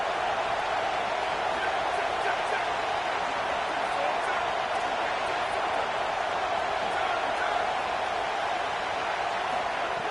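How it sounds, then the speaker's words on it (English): Steady roar of a large college football stadium crowd in Happy Valley on third down, loud and sustained throughout without letting up. "Here comes the noise from this big crowd in Happy Valley on 3rd down."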